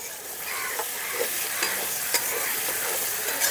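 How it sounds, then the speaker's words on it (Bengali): Fried potatoes get stirred through a tomato masala in a pan, with a close, continuous sizzle and repeated scraping strokes of a spatula and no talk. "আর এই পর্যায়ে ভেজে রাখা আলুগুলো দিয়ে সামান্য আরেকটু কষিয়ে নেব মশলাটাকে"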